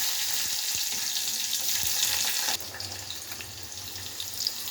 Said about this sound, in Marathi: फोडणीसाठी टाकूया कांदा